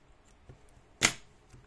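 A single sharp scissor snip cuts the yarn tail of a small crocheted turtle keychain, one crisp click standing alone against near silence.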